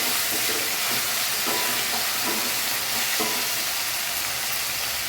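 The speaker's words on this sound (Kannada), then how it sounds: "ಬದನೆಕಾಯಿ ಎಣ್ಣೆಲೇ ಚೆನ್ನಾಗಿ ಫ್ರೈ ಆಗಬೇಕು" Cut brinjal pieces fry in hot oil for a Karnataka ennegayi dish, a loud, unbroken sizzle and hiss with faint stirring knocks underneath.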